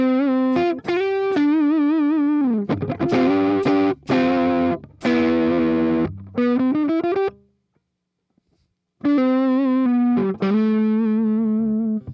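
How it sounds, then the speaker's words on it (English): Layered electric guitar tones, a saturated distorted sound stacked with a clean one through parallel Neural DSP plugins, played as loud sustained notes and chords with a brief silent gap near the end. "So now I have layered 2 different guitar tones on top of each other."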